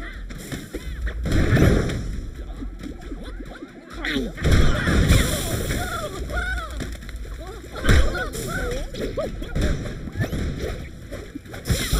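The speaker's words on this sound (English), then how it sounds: "Shooting bombs at us." Bombs fired at the player in Bang On Balls Chronicles burst in heavy splashy booms, with several loud hits at irregular intervals among game sounds and a player talking over them.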